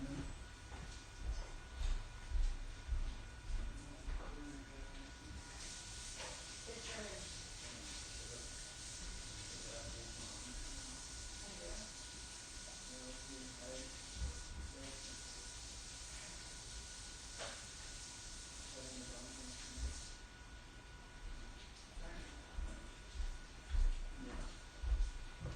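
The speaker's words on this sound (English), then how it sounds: "I'm gonna rinse that out so it doesn't harm the plastic." Water sprays and splashes into a plastic tray as it is rinsed out, a steady broadband hiss running for about fifteen seconds with brief pauses, fairly close, with faint background voices before and after.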